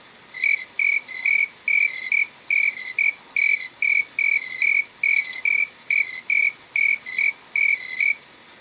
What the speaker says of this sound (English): Noisy crickets sing to each other, making a chirruping sound.